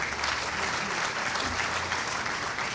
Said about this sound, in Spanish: un aplauso al Jurado Nacional de Elecciones